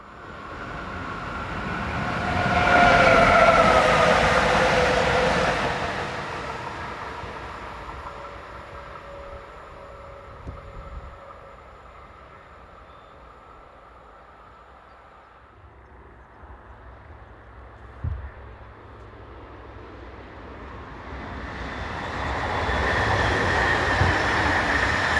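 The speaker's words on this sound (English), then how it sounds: "Heading south is MRCE Class 189 number 102, which was then being hired to SBB Cargo." An MRCE Class 189 electric locomotive, number 102, heads south hauling two Swiss Class 482 locomotives, rumbling past from a distance, swelling loud early, fading through the middle, then building again toward the end.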